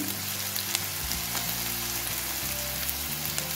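Sliced mushrooms and onion fry together in a pan for a savoury pastry filling, giving a steady, close, dense sizzle with faint crackles and no voices.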